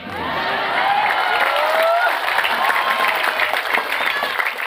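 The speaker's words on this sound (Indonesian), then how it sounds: "Gak usah tepuk tangan. Apa arti tepuk tangan tanpa saweran?" A crowd claps steadily at an outdoor Islamic religious gathering on a field in Tegal, a dense, loud wash of applause with scattered cheers and voices mixed in throughout.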